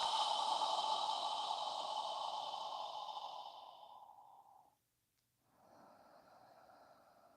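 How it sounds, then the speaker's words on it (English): A long, slow open-mouthed exhale during a yoga session, like fogging a mirror: a soft, airy hiss that fades over about four seconds, a brief silence, then a fainter second breath begins. "As you exhale, imagine you're fogging a mirror with your breath."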